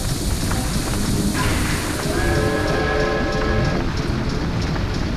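A train sits idling at a station in the video game Banjo-Tooie, overheating; a steady mechanical rumble with hissing and a sustained whistle-like tone runs throughout at constant loudness, with no voices.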